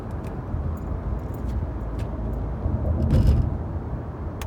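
Car driving along with a steady low road and engine rumble inside the cabin, continuous and fairly loud, with faint small rattles above it.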